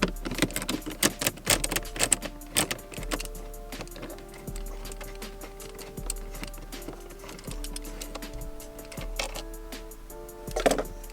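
Long screws are backed out of a BMW E60 5 Series cup holder with a 15mm Torx driver, producing a run of close, rapid ratcheting clicks and small taps with a low steady hum underneath.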